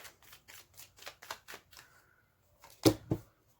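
Tarot cards being shuffled by hand, a quick run of soft, evenly spaced riffles followed by a pause and then two louder slaps as the deck is squared, close and with no talking.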